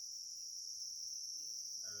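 Crickets on a cricket farm chirp in a dense, continuous high-pitched trill, steady and close, with no gaps and only faint background rumble underneath.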